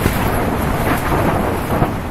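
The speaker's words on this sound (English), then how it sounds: "It is very stormy." Thunderstorm on a windy day on Koh Rong Island, a dense continuous roar of wind and rain with low rumbling thunder, loud and steady throughout with no voices.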